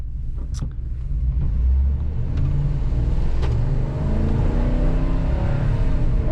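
A 2015 Ford E-350 shuttle bus engine pulls steadily as the bus accelerates, with a loud, continuous low rumble and faint rising harmonics, heard up close from inside the cabin with no talk.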